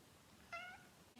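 A pet cat gives a single short, faint meow indoors, brief and alone against quiet room tone.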